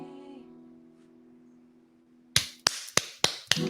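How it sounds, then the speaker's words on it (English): Scattered clapping from people at home during a live online show, about five sharp, separate claps with uneven spacing, close and distinct, following a fading sustained tone. "the claps from all the other people at home?"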